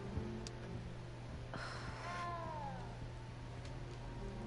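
A cat meows in Hogwarts Legacy, one drawn-out rising and falling cry heard faintly over steady game ambience and a low hum.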